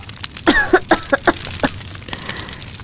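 A woman in a smoke-filled house coughs in a quick burst of several harsh coughs, close and loud, then a fainter cough or two trailing off.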